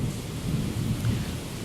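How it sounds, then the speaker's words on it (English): Low thunder rolls in a short, steady rumble mixed with the hiss of rain during a storm. It sits at moderate loudness and has no voices over it. "excuse the thunder"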